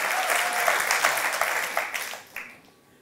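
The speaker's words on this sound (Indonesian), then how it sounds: "Segitu doang tepuk tangannya." Church congregation clapping during a Sunday service, a brief dense burst of applause that swells and then fades out over a few seconds, with a voice briefly heard at the start.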